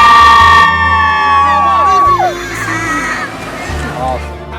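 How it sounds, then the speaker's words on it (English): Audience at a band's performance cheering and whooping excitedly, loud and close, with shouting voices mixed into the crowd roar and musical tones sounding alongside. "And then everyone just get really excited and cheer for us."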